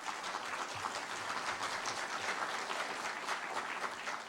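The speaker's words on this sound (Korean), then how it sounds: "다시 한번 큰 박수로 맞이해 주시기 바랍니다" Applause fills a hall at a university president's inauguration ceremony. Many hands clap at an even, sustained level, heard from a distance and fairly soft.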